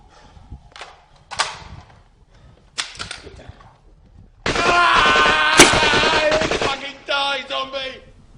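Rifle gunfire in a 2005 horror film: a few scattered sharp reports, then a sustained loud burst of rapid shots with ringing echoes. Nothing is spoken over it.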